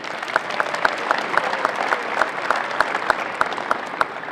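A crowd applauds steadily at a court dedication ceremony at Pittsburg State University, with sustained clapping and some sharper individual claps standing out throughout.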